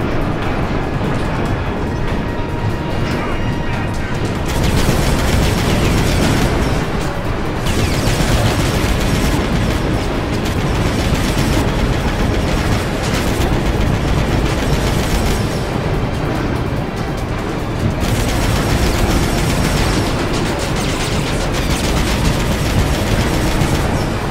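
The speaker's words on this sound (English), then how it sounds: "Just gotta shoot these fuckers." Sustained gunfire from The Chronicles of Riddick: Assault on Dark Athena, a dense, continuous clattering barrage with bursts that swell and dip over about twenty seconds.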